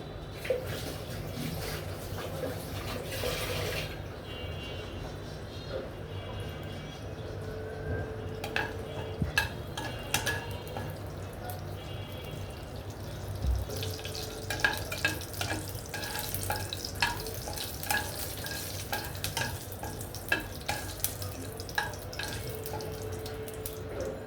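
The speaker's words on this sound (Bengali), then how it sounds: "মরিচটা দিয়ে ভেজে নেব আমি ভর্তা বানাবো" Green chilies fry in a pan with mustard for a chicken bharta, a soft steady sizzle with scattered scraping and stirring clicks, fairly faint and without voices.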